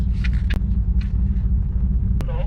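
Steady low engine rumble from a car idling at an autocross grid on a wet event day, continuous and fairly close, with a couple of brief clicks and faint voices in the background.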